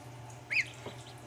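A single short, nasal duck call rising above quiet background noise, followed by a faint softer sound.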